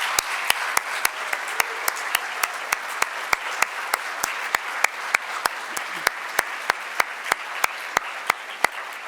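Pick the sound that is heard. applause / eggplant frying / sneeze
applause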